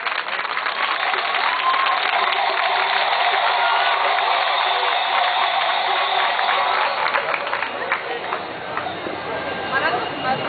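A large outdoor crowd in Syntagma Square applauds and cheers loudly at an Athens carnival (Apokries) folk performance, a dense steady roar of clapping that holds for about ten seconds, with voices mixed in.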